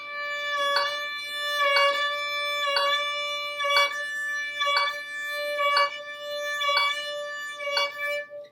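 A violin holds one sustained note with subdivided vibrato, eight evenly spaced pulses of the finger roughly once per second, played alone and clear.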